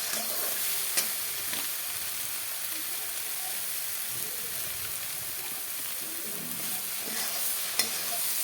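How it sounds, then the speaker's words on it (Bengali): Soybean chunks and mixed vegetables frying in a pan with turmeric and salt, a steady broadband sizzle throughout with a couple of sharp stirring clicks, close and fairly loud, no talking. "হলুদ নুন দিয়ে সুন্দর করে লাল লাল করে ভেজে নেব।"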